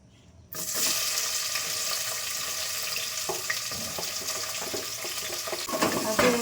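Dishes are washed under a running tap at a home kitchen sink, a steady close stream of water starting abruptly with scattered clinks and knocks of utensils.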